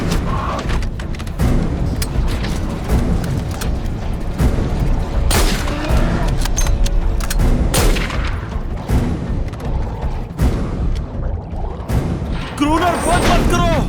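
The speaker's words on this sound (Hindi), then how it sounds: "गोली चलाओ, गोली चलाओ, गोली चलाओ, चलाओ गोली," Film gunfire in a dense, loud volley of booming shots and rapid bursts, continuing for several seconds as voices shout over the shooting.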